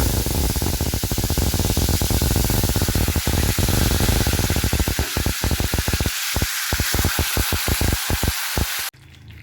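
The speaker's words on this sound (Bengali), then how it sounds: "এবার মশলা মাখানো চিকেনগুলো আমি গরম তেলে" Spiced chicken pieces hit hot mustard oil in a steel frying pan, setting off a loud, dense sizzle with rapid crackling pops that thin out into scattered spatters before cutting off abruptly.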